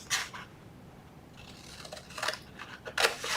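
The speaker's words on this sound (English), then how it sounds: "We're gonna cut up these score lines and cut off about half" Scissors snip through chipboard along score lines while flaps are cut for a boxed lunch box, giving about three quiet, crisp cuts separated by short pauses, close and without talk.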